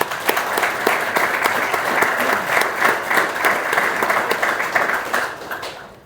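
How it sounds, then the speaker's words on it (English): Audience giving a round of applause at an Air Force retirement ceremony, steady dense clapping from a roomful of people that tapers off at the end. "Another round of applause for Katie."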